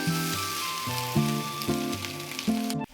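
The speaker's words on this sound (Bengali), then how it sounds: "সর্ষে বাটা দেওয়ার পর খুব বেশি কষানো যাবে না" Mustard paste frying with spices in a pan for Bengali sim jhal gives a steady, moderate sizzle and hiss, heard under a stepped background melody and no talking.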